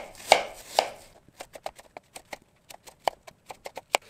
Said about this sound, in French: Parmi ces 2 pommes, il y en a une que l'on coupe en petits cubes comme ceci.